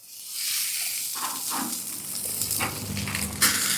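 Pork steaks sizzle on an old smoker grill in a steady, close, broadband hiss, with a few clinks and scrapes as they are flipped over.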